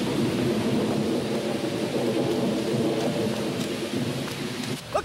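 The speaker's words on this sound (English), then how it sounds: "It looks like rain." A thunderstorm with heavy rain pours down in a dense, steady roar, with low rumbling thunder rolling underneath and a brief louder crack near the end.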